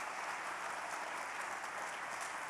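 A church congregation breaks into steady, dense applause for its volunteers, a continuous wash of clapping from a large indoor crowd.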